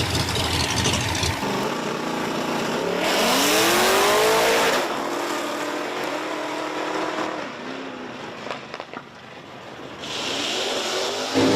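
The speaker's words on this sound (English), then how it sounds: "Coming at you right now, I got the big Ford pickup truck, the Camaro." A big Ford pickup truck and a Camaro launch in a drag race at Virginia Motorsports Park, engines roaring loudly with rising revs and shifts, then fading down the strip before another engine swells near the end.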